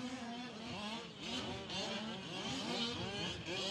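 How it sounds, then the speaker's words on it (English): Fifth-scale M3 RC trucks race in a MOD Series E main, their small engines revving and whining in overlapping rising and falling sweeps, moderately distant and continuous with no voices. "Oh, just follow the cars right now, Chris."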